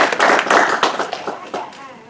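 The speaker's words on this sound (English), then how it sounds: "I want to say thank you and clap for yourself" An audience at a makerspace grand opening claps together, a dense close burst of applause that is loudest at first and then thins and fades over about two seconds.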